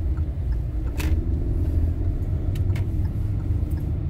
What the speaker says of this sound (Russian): 266 электробус.